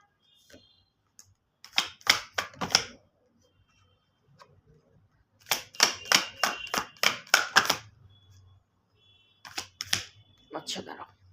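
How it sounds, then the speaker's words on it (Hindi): A deck of tarot cards being riffle-shuffled in three bursts of rapid crisp flutters, each ending in a short clatter, loud and close with quiet pauses between, and no talking. "One full shuffle. अगर एडिक्वेट कार्ड्स नहीं आते हैं तो सेकंड शफल लेंगे."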